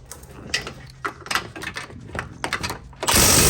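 Socket wrench working loose the inner lower control arm bolt on a Honda Civic Type R, a run of sharp ratcheting clicks and metallic taps in irregular bursts, close and moderately loud, ending in a louder sustained broadband rasp.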